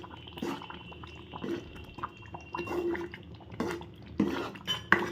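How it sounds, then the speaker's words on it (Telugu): Tamarind stew with fenugreek powder being stirred in a pot, a spoon clinking and scraping against the metal in irregular bursts, with soft liquid sloshing between strokes. "ఒకసారి కలుపుకుందాం."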